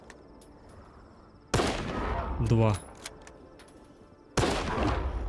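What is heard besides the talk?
rifle gunshots in a video game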